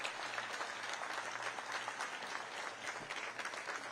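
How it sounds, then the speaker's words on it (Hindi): Crowd applause at a Baba Lakhi Shah Banjara Prakash Diwas celebration attended by Chief Minister Nayab Singh Saini, a broad, steady wash of clapping heard from a distance at low level. "एक बार जोरदार तालियां बजा के, जोरदार आवाज जो है दिल्ली तक जाए।"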